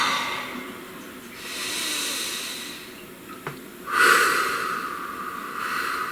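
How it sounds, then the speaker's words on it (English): Slow, deep breaths drawn in and let out close to the microphone, two long airy swells of breath with a quiet pause between them and no talking. "Take a nice deep breath."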